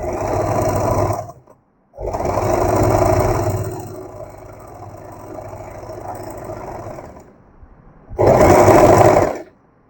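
Bursts of a sewing machine run up close and loud as it stitches an elastic ruffle seam for a baby girl's crop top. Three separate runs come with short stops between them, and the second run slows and fades as it ends.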